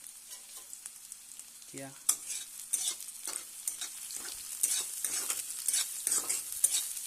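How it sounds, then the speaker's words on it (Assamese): Chopped onions sizzle in hot oil in a pan while being stirred, with soft scraping strokes over a steady crackle; a brief voice is heard near the start. "পিঁয়াজখিনি লৰাই থাকিম"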